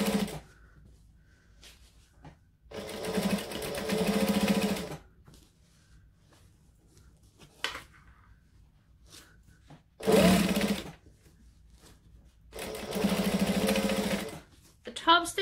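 A domestic sewing machine top stitches a seam on a sewn garment, whirring in three separate runs of a few seconds each, close and clear, broken by quiet gaps and a couple of brief handling bumps.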